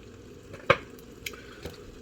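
A spoon stirs yellow corn frying in a skillet with a little browning on the bottom, giving one sharp scrape followed by two softer ones over a low, steady sizzle.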